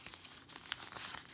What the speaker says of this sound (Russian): Берем пакетик и откроем.